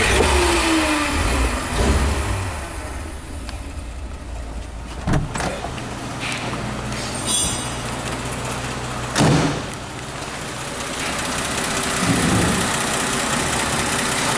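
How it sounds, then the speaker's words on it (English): A 1941 DeSoto sedan engine fires up with a foot starter and settles into a smooth, steady idle, with a few brief revs and clunks over the continuous close running hum. "Goes into a smooth idle."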